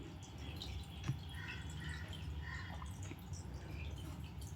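Water is added to an egg curry in a pan, heard as faint, low trickling and dripping over a steady background hiss, with no one talking.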